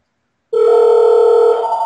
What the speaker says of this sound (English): Mom, answer the phone.